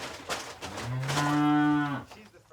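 A single cow on a farm gives one long, deep moo up close, rising and holding for about a second before fading out.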